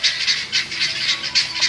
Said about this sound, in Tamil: கோழி இனத்திலேயே இந்த கின்னி ஃபால்ஸ் பறவைகள் தான் அதிக சத்தமா கத்துங்களாம்